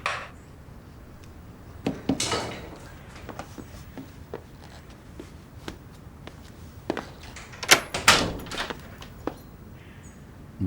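A door shut indoors during a tense domestic scene gives a few sharp knocks and thuds, with quiet room tone between the impacts.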